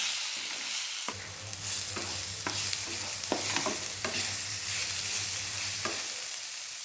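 Spices sizzle and crackle in hot oil for an egg masala as a spoon stirs and scrapes the pan in irregular strokes, close and steady.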